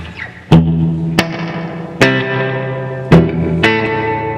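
A VFE Yodeler pedal's reverb with the low damp control cranked rings out behind a series of sharply struck guitar chords, about five strums, each decaying into a dark, sustained wash.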